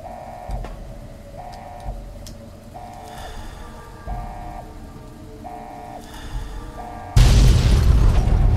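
In Fallout: New Vegas, a repeating mechanical pulse ticks in steady rhythm before a loud, booming explosion bursts in near the end and keeps rumbling.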